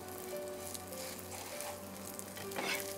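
Potato and capsicum pancakes frying in ghee in a pan, giving a steady, soft, close sizzle with crackly spitting that swells briefly near the end; no one speaks.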